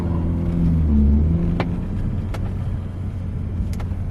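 A Mitsubishi Eclipse sports car engine rumbles and its loud exhaust revs up briefly, then settles into a low idle with a few sharp clicks, heard close.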